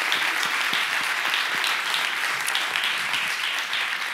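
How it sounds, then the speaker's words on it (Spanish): A hall audience applauds Justo Orgaz, president of GBCe, at a sustainable building awards event: loud, sustained clapping from a sizable crowd, dense and even throughout with distinct individual claps standing out. "Un aplauso de nuevo para Justo Orgaz"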